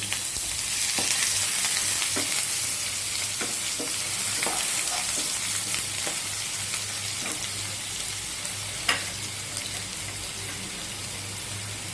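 Onions sizzle loudly and steadily in a hot pan while a utensil scrapes and stirs at irregular moments, with no talking.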